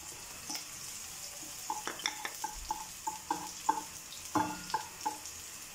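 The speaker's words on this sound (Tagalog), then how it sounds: "So, mainit na yung kawali natin. Lagay natin una ang sibuyas. Haluin lang natin siya." Onions fry in a hot pan while being stirred: a faint, continuous sizzle under a scattered series of soft scraping and clacking utensil knocks, close by and fairly quiet.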